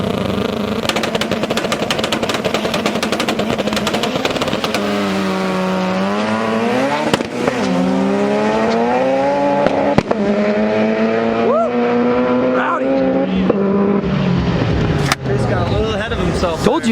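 All-motor K24 race car engine roars hard at a drag race event, revving up and down continuously with sharp pops and crackles, loud and close, mixed with engine noise and voices.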